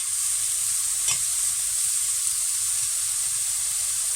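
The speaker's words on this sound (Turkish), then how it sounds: "Bunun için bir adet büyükçe bir soğanı güzelce ince ince doğradım. Yağda biraz kavuracağım." Steady sizzling of finely chopped onion frying in oil, a continuous bright hiss with a brief louder crackle near the start, heard alone without voices.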